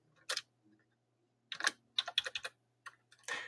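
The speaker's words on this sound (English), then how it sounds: "I'm just clicking enter" Short bursts of typing on a computer keyboard, close and crisp, with several quick keystroke clusters separated by pauses against a quiet background hum.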